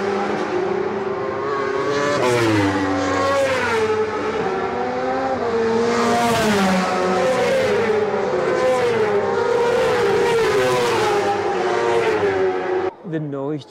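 Loud race car engines scream past one after another, pitches rising and falling as they speed by, with a brief voice at the end.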